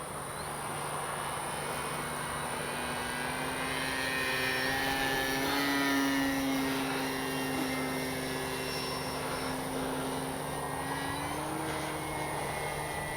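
A Durafly Brewster F2A Buffalo V2 radio-controlled park flyer drones steadily overhead, its propeller whine rising and falling in pitch as it manoeuvres at a moderate distance, with no voices.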